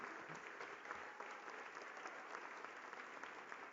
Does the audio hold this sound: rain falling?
no